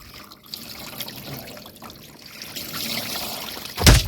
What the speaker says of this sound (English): I've never seen water come off of that like that on the shed, though, even during a heavy storm